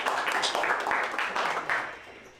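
Crowd at a Pluma Guaraní Summer Edition freestyle rap battle breaks into dense, steady applause that fills the space with broad hiss, with voices mixed in, fading slightly toward the end.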